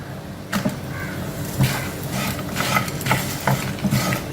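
Grated coconut, cashews and a piece of ginger are sautéed together in a pan, with a steady low sizzle under repeated scraping stirs of a spoon, heard close with no talking.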